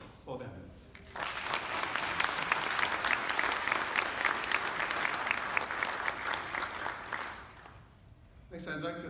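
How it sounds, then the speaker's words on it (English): Audience applause at a convention swells up after a brief voice, a dense sustained patter of many hands that holds steady, then fades as a speaker resumes at the end. "please join me in a round of applause for them"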